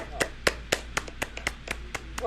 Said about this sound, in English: Clap up for Christian Siriano.